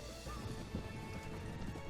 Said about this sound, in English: I believe that's one of our horses.